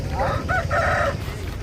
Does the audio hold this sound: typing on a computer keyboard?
no